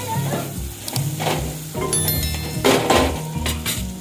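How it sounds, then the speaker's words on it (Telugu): Onions fry with turmeric in a pan, a steady sizzle broken by scraping stirs and light metallic clinks of a spoon against the pan, close and fairly loud. "ఉల్లిగడ్డ అయితే మక్కింది పసుపు వేసుకుంటున్నా"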